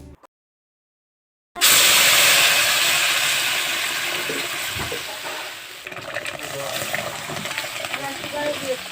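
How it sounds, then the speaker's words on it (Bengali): Lentil dal is poured into a pan of browned onion and garlic, setting off a sudden loud sizzle and hiss after a moment of silence that slowly fades into steady bubbling. "যখন পেঁয়াজ রসুন বাদামি হয়ে আসবে তখন আমি এই ডালটা এর মধ্যে দিয়ে দেব।"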